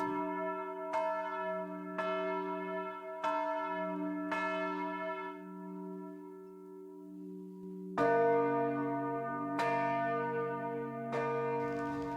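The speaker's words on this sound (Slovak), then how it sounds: "tak robíme aj tzv. Prerušované zvonenia a vlastne zadržiavame srdcia zvonov" Church bells are rung by hand by bell ringers at noon, steady repeated strikes with long ringing tones, joined by a second, louder bell partway through in an interrupted peal pattern.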